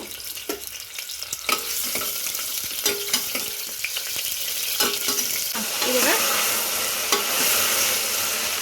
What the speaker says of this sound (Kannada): ಇವಾಗ ಕಾಳು ಹಾಕಿದ್ದೀನಿ, ಹುರಿಬೇಕು ಚೆನ್ನಾಗಿ ಈ ಥರ